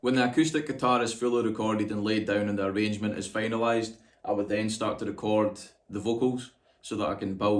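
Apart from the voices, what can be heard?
None of the usual background noises is heard.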